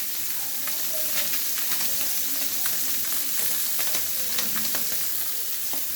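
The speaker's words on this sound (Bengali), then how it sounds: "প্রথমে আমরা মাছগুলো ভালো করে ভেজে নিব।" Tangra fish fry loudly in a pan of hot oil, a steady dense sizzle with scattered crackles and pops throughout, close up and with no voices.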